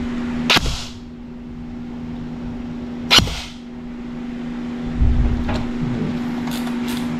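An upgraded EC 620 MK18 airsoft rifle fires three sharp, separate single shots spaced a few seconds apart over a steady low electrical hum.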